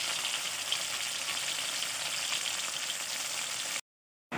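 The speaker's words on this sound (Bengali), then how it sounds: "এপিট ওপিট করে মাছগুলো একদম লাল করে ভাজতে হবে" Fish frying in hot oil in a wok gives a dense, continuous close sizzle for several seconds, then cuts to silence just before the end.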